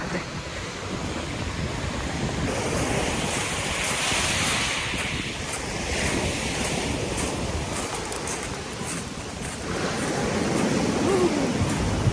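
Continuous rushing surf and wind noise, loud and close, with waves washing in a steady roar.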